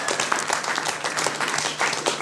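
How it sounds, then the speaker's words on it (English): A television studio audience claps steadily in dense, even applause throughout the short moment, close and continuous with no voices standing out. "They deserve a round of applause, guys."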